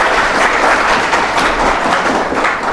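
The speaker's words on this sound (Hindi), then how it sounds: "और जोरदार तालियां एक बार बननी चाहिए" Loud, dense applause fills a hall at a Hindi-speaking coaching institute event honouring a student selected in Lower PCS 2016, with steady crowd clapping throughout and no speech.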